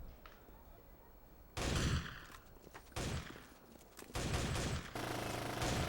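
Squad gunfire in the video game Full Spectrum Warrior, several loud bursts of automatic rifle fire in quick succession, close and harsh, with short gaps between volleys.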